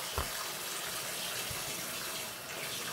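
A bathroom sink tap runs cold water in a steady, soft, even hiss at close range, with no talking over it.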